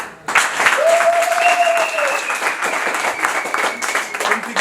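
Audience applause for Yusuf at a Vital'o FC club gathering, a sustained round of clapping from a crowd lasting the whole stretch, steady and fairly loud, with a whistle-like tone rising above it partway through.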